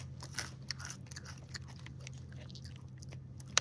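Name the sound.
biting crunchy baked dried apple chips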